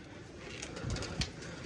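Domestic pigeons coo softly inside their coop, a couple of low murmuring coos rising briefly over a steady rustling background.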